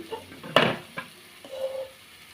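A lid is set onto a pan of frying liver with a sharp clank, followed by a lighter knock and a brief metallic ring that fades over a soft background.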